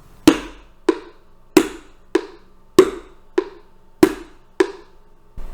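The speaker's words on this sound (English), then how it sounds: "I have chosen a mixing bowl and some spatulas." Spatulas beat a mixing bowl in steady duple meter, alternating loud strong strikes with softer weak ones, eight sharp percussive hits at an even pace, close and alone with no talk.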